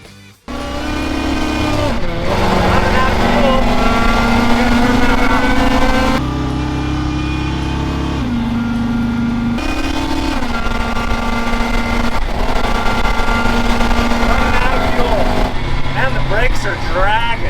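A 1942 Chevy's engine revs hard during a test launch, a loud, close roar climbing and dropping through several surges with brief tire noise, and voices speaking over it.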